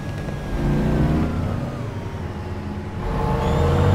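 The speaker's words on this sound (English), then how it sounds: "turn the engine back on" A tank engine in War Thunder, a Japanese Type 10 or TKX, starts up and revs, a steady loud low rumble that swells again toward the end, with no talking over it.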